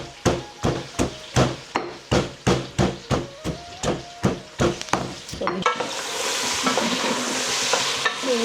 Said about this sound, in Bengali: সামান্য গরম হয়ে গেছে আমার গরম মশলা। এখন আমি পেঁয়াজ দিলাম